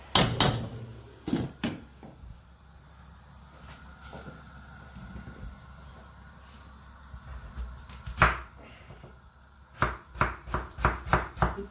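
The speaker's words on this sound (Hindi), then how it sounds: "आलू ये कटी दे सब" A knife chops potatoes on a cutting board for iftari pakoras, with scattered sharp strikes early on and then a steady run of close, crisp chops near the end.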